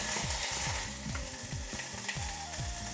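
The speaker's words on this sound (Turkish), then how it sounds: "Görüldüğü gibi biraz tereyağı ekliyoruz. Evet, görüyorsunuz cızıl cızıl cızıl sesler çıkıyor." Butter sizzling with hot pepper tomato paste in a pan, a constant loud frying hiss with rhythmic stirring scrapes repeating about every half second.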